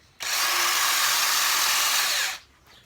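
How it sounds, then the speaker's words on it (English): An electric drill polishing a 1978 Kawasaki KZ650 metal casing whirs at a steady high pitch for about two seconds, starting and stopping abruptly, loud and close with a faint rubbing hiss. "I'll put that on my drill"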